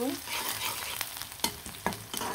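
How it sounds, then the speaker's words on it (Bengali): Chopped garlic and onion fry in oil with a steady close sizzle, and a spoon scrapes and stirs through the pan in a few distinct strokes. "তেলের মধ্যে দিয়ে দিলাম রসুন কুচি আর পেঁয়াজ কুচি দিয়ে কিন্তু আমি ভালো করে নাড়াচাড়া দিয়ে দিব"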